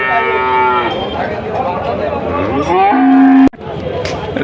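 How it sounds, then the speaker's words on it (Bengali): Cattle moo loudly and nearby at a cattle market in Shahapur, Khulna, several long drawn-out calls one after another, followed by a sharp knock and background noise. "দুটো গরু নিয়ে আসছে আমরা"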